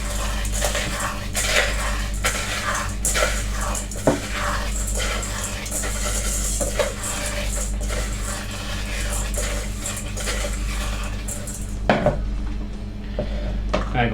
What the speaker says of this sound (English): The first job is to crush up the cornflakes so nice and fine.